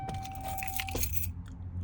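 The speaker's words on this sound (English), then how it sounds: "When I take the keys out, it stops chiming." Keys jangle as they are pulled from the ignition of a 2004-2012 Chevy Colorado truck, and a steady electronic door chime cuts off partway through, leaving a low idle hum.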